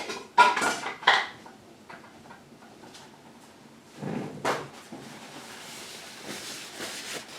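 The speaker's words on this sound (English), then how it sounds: "Now I'll just lay this over in the sink" A kitchen utensil is set down in a kitchen sink with a couple of sharp clattering knocks, followed by quieter rattles and another clunk a few seconds later, close and without speech.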